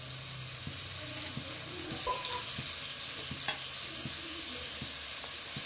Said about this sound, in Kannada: ಟೊಮೆಟೊ ಹಾಕಿ ಸ್ವಲ್ಪ ಹೊತ್ತು ಫ್ರೈ ಮಾಡಿ